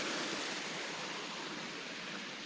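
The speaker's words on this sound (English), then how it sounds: "I can hear falling water, so that's always a good sign" Steady rushing of falling stream water near a quarry in Snowdonia, Wales, a broad even wash of sound that stays close and constant throughout with no voices.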